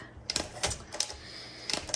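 Typing on a 1963 Olympia SM5 manual typewriter: a few sharp, close keystrokes in a loose rhythm, with a quiet pause between bursts.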